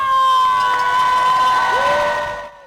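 Loud, sustained cheering and shouting from a crowd lining a marathon course, with high voices and whistle-like tones that fade out at the end.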